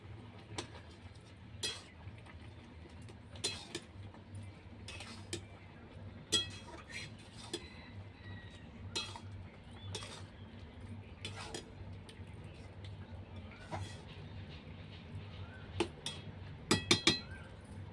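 A utensil stirs a pot of red amaranth leaf curry with onion, giving sparse, faint metallic clinks and taps over a low, quiet kitchen hum.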